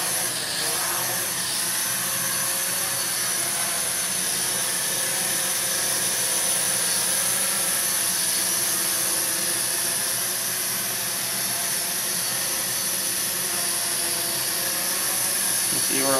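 A Heli-Max 230Si quadcopter runs at full throttle in altitude-limiting mode, its rotors giving a loud, steady high-pitched whine that holds without a break, with faint speech in the background.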